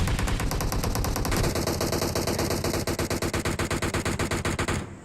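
Dense, continuous automatic gunfire from a battle royale video game rattles nonstop, loud and close, with a rapid regular burst of shots toward the end.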